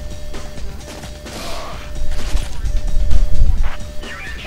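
Gunshots blast at boxes of fruit in the Ghost Squad arcade shooter, with crashing, smashing impacts rising over a busy, steady layer of game sound.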